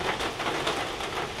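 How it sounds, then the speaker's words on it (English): Heavy rain pours down in a steady, dense hiss, loud and close, with no voices over it. "the loudness of the rain"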